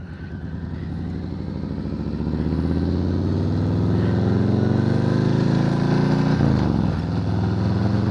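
A 2020 Harley-Davidson Softail Standard motorcycle runs loud and close, its throbbing engine note swelling over the first seconds, holding steady, then dipping sharply near the end.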